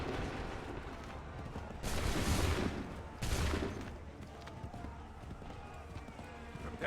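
Two loud musket volleys in Assassin's Creed 3, each a broad crashing burst of many shots at once, a little over a second apart, over a murmur of battlefield noise and distant voices.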